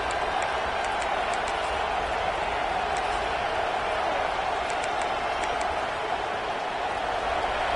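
A steady, dense roar from a packed college football stadium crowd at a South Carolina vs Clemson game in a football video game, sustained at full volume throughout.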